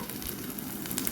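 Garlic cloves and green chilies fry in mustard oil over a gas flame, making a brief, quiet, even sizzle with faint crackles.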